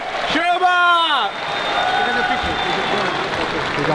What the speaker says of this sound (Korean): 승리하신 타노스 선수께 큰 박수 부탁드리겠습니다